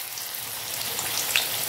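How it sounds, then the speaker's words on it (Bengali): Paneer fries in hot oil for a vegetarian navaratan korma, giving a steady, close, even sizzle with no talk over it. "তেলের মধ্যে আমি পনিরটা ভেজে নেব।"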